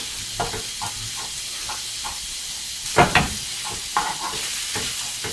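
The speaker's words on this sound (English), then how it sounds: "Get it mixed in, get that flavor to move around." Chipotle peppers being stirred into tinga poblana in a hot pan, a steady hiss of sizzling with rhythmic scraping stirs and a few louder clatters of the utensil against the pan.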